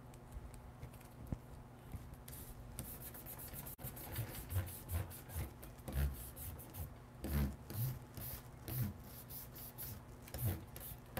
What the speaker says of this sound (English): right here I'm using this kneaded art gum eraser